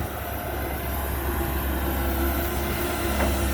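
A Komatsu PC160LC-8 excavator engine with about 16,700 hours runs at a steady, loud drone with a constant low hum, close by and with no voices.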